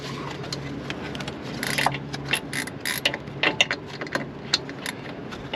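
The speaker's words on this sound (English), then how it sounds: "I've got actually a little ratchet type wrench that I'm going to use" Ratchet wrench loosening a 15mm upper shock bolt on a 2007 Jeep JK during Fox replacement shock installation, giving close, quick clicking bursts in uneven runs.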